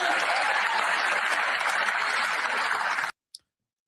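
A large crowd applauds and cheers loudly in dense continuous clapping for about three seconds, then stops abruptly, followed by silence and a single faint click.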